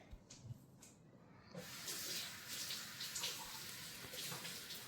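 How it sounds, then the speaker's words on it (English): A kitchen tap runs steadily while herbs are washed under it, starting with a few light splashes and then settling into a continuous, fairly close hiss of flowing water. "So I'm washing all my herbs."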